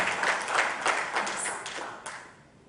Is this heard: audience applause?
yes